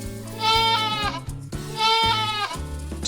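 A goat bleats twice in a row, each a wavering, nasal cry about a second long with a short pause between, fairly close and with no talking.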